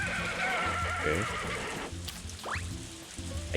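A horse in the farming video game Story of Seasons: A Wonderful Life gives one clear, close whinny with a wavering pitch, over a steady bed of game music and patter, and a few brief squeaky calls come after it.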